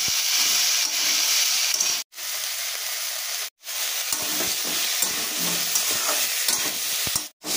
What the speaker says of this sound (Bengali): এবার আমি সোয়াবিনটা ভালোভাবে কষিয়ে নিই আলু পেঁয়াজের সঙ্গে